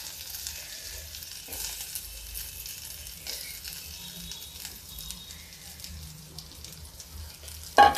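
Steady, soft sizzling of peas frying with fenugreek leaves in a pan, with occasional scraping stirs and a sharper clink near the end.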